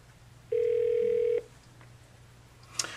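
An Aastra 6757 VoIP phone places a call. A single steady electronic tone sounds for about a second, followed by quiet waiting on the line and a faint click near the end.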